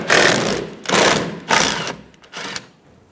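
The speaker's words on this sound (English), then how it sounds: "Using a 10mm socket, remove the 2 bolts for the tail light." A 10mm socket on a ratchet backs out the tail light bolts on a 2005-2015 Toyota Tacoma, giving four short bursts of rapid, close metallic clicking with brief pauses between them.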